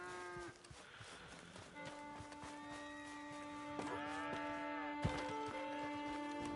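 A cow moos in the video game Red Dead Redemption 2, a long, drawn-out call rising and falling over a soft outdoor ambience with a sustained background tone and no talking.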